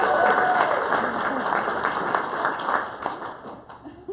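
A live audience breaks into applause at a Builderall Everest event in Memphis, a dense wash of clapping that holds steady, then thins and grows patchy toward the end.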